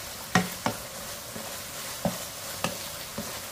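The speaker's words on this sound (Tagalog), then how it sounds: "Nag-start nang magmantika yung ating giniling." Ground pork sizzles steadily as it is sautéed in oil for pork shanghai, with a handful of sharp spatula clanks and scrapes at irregular intervals over the close frying hiss.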